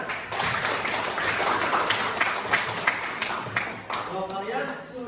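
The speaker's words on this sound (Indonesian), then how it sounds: "Nah, tepuk tangan." Students in an Indonesian-language classroom clap together, with distinct rhythmic claps over a busy room tone and voices talking in the background.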